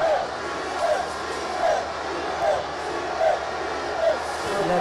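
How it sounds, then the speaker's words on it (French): Large stadium crowd of about 26,000 spectators at the opening ceremony of the Stade du 4 Août in Burkina Faso, cheering at the arrival of Captain Ibrahim Traoré; a steady roar with rhythmic swells of chanting voices roughly every second. "l'arrivée du capitaine Ibrahim Traoré qui a déclenché une vague d'acclamation"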